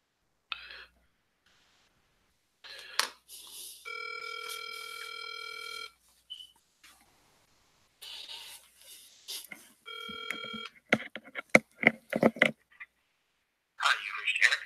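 Telephone call tones on a landline-style line: a few short beeps, then two long steady ringback tones, followed by a burst of quick clicks and dialing tones, with brief whispered speech around them.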